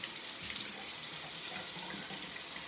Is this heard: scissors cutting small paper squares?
no